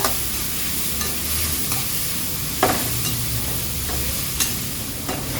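Green chillies, onion, curry leaves and ginger sizzle steadily in a hot pan, a continuous close frying hiss broken by a few sharp stirring scrapes, with no talking.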